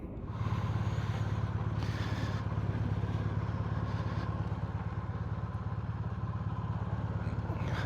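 Harley-Davidson Pan America motorcycle cruising down a freeway, its engine a steady, loud low rumble with continuous road and wind noise throughout, no voices.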